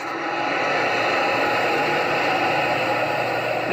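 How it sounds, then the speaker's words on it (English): Pottery kiln firing at 2200 degrees, a steady broadband roaring hiss like a burner or blower, loud and unchanging for the whole stretch with no voices. "That's the sound of a kiln at 2200 degrees."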